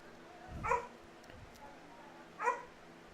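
A dog barks twice, a few seconds apart and fairly distant, at an outdoor varsity soccer game, over a low steady crowd and field ambience.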